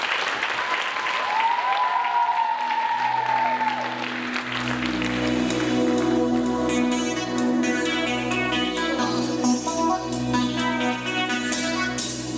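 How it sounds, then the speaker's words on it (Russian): Audience applause at a live show, broad steady clapping that fills the whole stretch at close range, with sustained musical tones rising beneath it as it goes on. "Наши аплодисменты."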